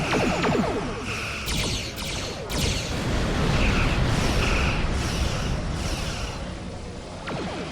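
Starship weapons fire and explosions in the Star Trek Online space battle game, a dense, loud roar of booms and blasts with repeated sharp bursts layered over a continuous rumble.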